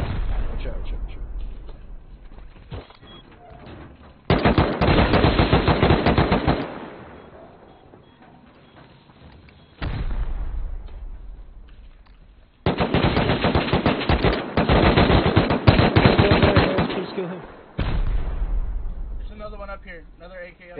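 Bursts of rapid automatic AK rifle fire in a video game shooter, loud and close, coming in long sustained volleys separated by quieter stretches, with players talking over it.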